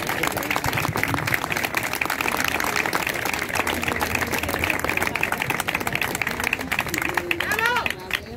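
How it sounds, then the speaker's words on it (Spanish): Crowd at a rally in support of care home workers clapping warmly and steadily, with scattered voices and cheers mixed into the sustained applause. "Un aplauso para él."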